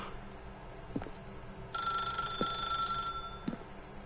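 A telephone rings in The Stanley Parable video game: a bright, electronic-sounding bell rings loudly and steadily for over a second after a few soft knocks, then cuts off, with no voices.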